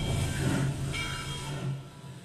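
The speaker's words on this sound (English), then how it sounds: "Why is the train stopping?" A passenger train in wartime slows to a halt outside a village under bombing, heard as a heavy steady rumble with rolling mechanical clatter and a thin hiss that gradually eases off.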